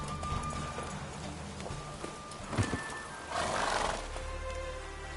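The horse Roach gallops in The Witcher 3, with rhythmic hoofbeats under a neigh and a loud whinny partway through, all at moderate volume.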